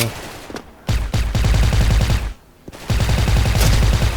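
A silenced white-camo AK74 fires in sustained rapid bursts in the video game Special Force, loud and close, with two short pauses between volleys.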